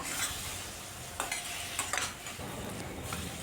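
Chili-ginger paste and spices frying in a pan for a rohu fish and squash curry, a steady close sizzle broken by a few sharp scrapes of a spatula stirring, with no talking.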